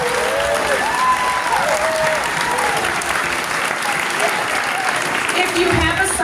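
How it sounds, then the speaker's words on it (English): Students and audience break into loud, sustained applause at the end of a spring chorus concert, with scattered cheers and voices mixed in throughout. "Give yourself a round of applause."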